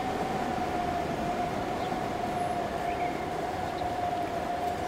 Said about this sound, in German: oh guck mal, da kommt der